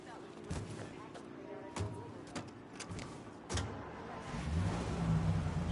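A car driving in Mafia Definitive Edition: a low engine hum runs under two people talking, with scattered clicks and thumps and the motor swelling louder toward the end.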